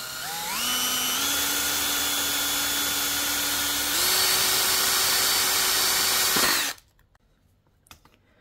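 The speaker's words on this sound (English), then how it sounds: "And now we're gonna make a hole here for a little switch." A small high-pitched power drill whines steadily for several seconds, stepping up in pitch midway, while drilling a switch hole in a 1/18 diecast model car. It then stops abruptly, followed by faint handling clicks.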